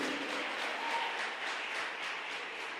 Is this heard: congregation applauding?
yes